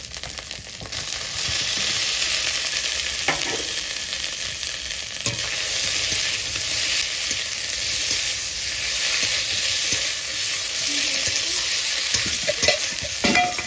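Previously fried potato and banana pieces tossed into a pan of lightly fried spices in oil, a constant close sizzle with scattered clinks and scrapes as they are stirred, no voices.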